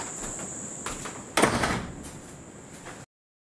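A door opens with a short, sharp burst of rattling noise midway through, set against a faint steady hum and quiet background chirping.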